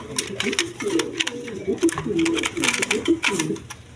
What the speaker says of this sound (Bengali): এখানে এক পেয়ার লাহুরি আছে দেখেন বিগ সাইজের কোয়ালিটি সম্পন্ন কবুতর